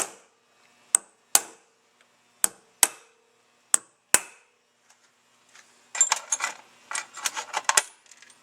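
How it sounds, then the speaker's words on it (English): Metal valve dropped into a casting and tapped home during a Buick AC 4304 fuel pump rebuild: a series of sharp, separate metallic taps and clinks, then a quicker cluster of light rattling knocks, close and clear in a quiet room. "Drop the valve in. Good idea to give it a couple little taps."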